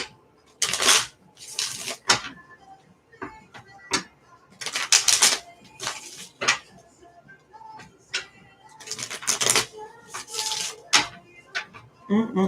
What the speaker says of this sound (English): I'm going to pause shuffling my cards